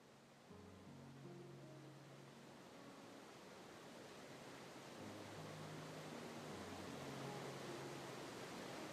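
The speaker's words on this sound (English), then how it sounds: "Yeah, it has a working waterfall" A waterfall in a VRChat world rushes as a continuous broadband hiss that grows slightly louder over time, heard alone alongside faint low tonal game music.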